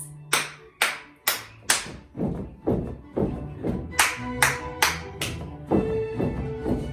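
Young children aged four to seven clap together in a ballet class at home, a run of about a dozen loud, close claps in a steady rhythm, each ringing briefly before the next.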